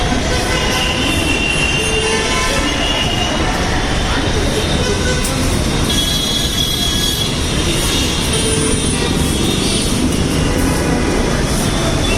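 A metro train rumbles steadily past near a Bangalore metro station entrance, with broadband roar and occasional high metallic squeals from the wheels, continuous and loud throughout.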